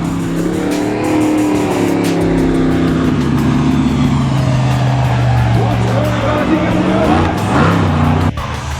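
Monster truck engine roaring and revving hard as the truck pulls wheelies at a South Pacific World Finals event, loud and continuous for the whole stretch with rising and falling engine pitch, crowd and commentator voice mixed underneath.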